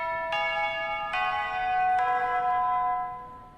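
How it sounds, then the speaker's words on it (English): A class bell in the Hakuchuumu no Aojashin video game chimes three times in steady succession, each strike ringing with bright sustained overtones that overlap and fade against low background noise. "I dismiss the class the moment the bell chimes."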